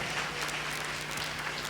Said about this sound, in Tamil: ஒரு கைத்தட்டு கொடுக்கலாம் ஆண்டவருக்கு.